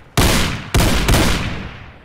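Three sharp, loud gunshots ring out in the DayZ video game, one near 0.2 s and a closer pair around 0.75 and 1.1 s, each trailing off into a long echoing decay with no talking.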